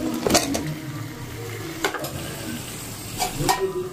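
Mutton fries in oil in a pan with a low continuous sizzle, broken by a few sharp clanks and scrapes of a utensil stirring against the metal.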